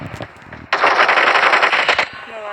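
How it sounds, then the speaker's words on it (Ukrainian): Automatic gunfire in PUBG Mobile, a loud sustained burst of rapid shots lasting over a second, with a few single shots before and after and faint voices underneath. "Він просто стріляє, куди попав."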